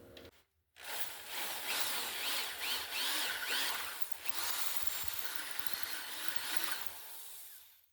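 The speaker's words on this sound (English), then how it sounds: "That was not bad to drill through at all." A power drill bores through mild steel on a frame, a steady close, loud whine with a grinding, metallic bite that holds for about seven seconds after a brief start, no talking.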